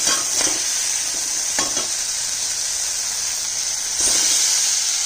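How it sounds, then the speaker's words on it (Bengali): Potatoes and eggplant frying in an oily spiced tomato masala give a continuous bright sizzle, with a few soft stirring scrapes and a brief surge of hiss near the end. "মশলা কিন্তু কষানো হয়ে গেছে আর টমেটো গলে গেছে বেগুন আর আলুটা দিয়ে দিচ্ছি"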